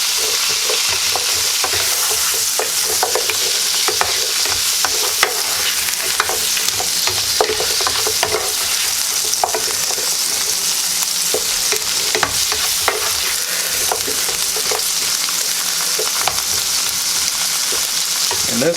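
Broccoli sizzles steadily in a hot pan for shrimp scampi, a constant loud frying hiss broken by frequent light clicks and scrapes of stirring throughout.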